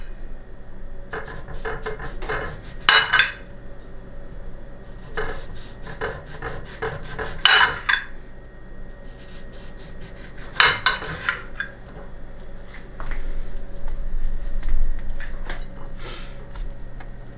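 Lemon slices placed on a plate of food for a keto holiday feast, heard as repeated faint scraping and light clinks of utensil against dish in short bursts, with quieter handling between.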